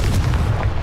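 A Confringo blasting spell in Hogwarts Legacy goes off as a short, dense, low-heavy boom that rumbles throughout the brief moment with no talk.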